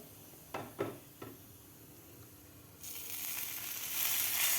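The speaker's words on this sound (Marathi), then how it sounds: "आता गरमागरम तडका आपल्याला ह्या बेसनवर घालून घ्यायचा आहे" Hot tadka tempering poured onto besan for moong dal pithla, a few soft clinks and then a steady hissing sizzle that builds and holds, fairly quiet and with no talking.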